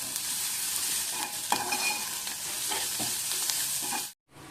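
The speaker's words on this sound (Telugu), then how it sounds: "ఉప్పు వేసుకొని ఇవి బాగా కలుపుకోవాలి" A salted curry mixture for poori curry is stirred in a hot pan, with a steady close sizzle and soft scraping strokes that stop abruptly near the end.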